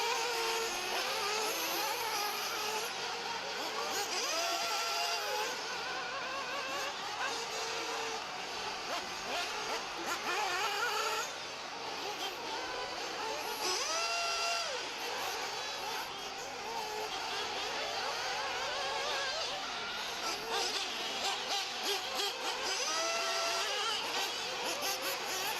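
Race cars run the sportsman final heat at the Dirt Nitro Challenge, engines droning and revving continuously at a distance with rising and falling pitch, under a busy crowd and announcer-like chatter throughout.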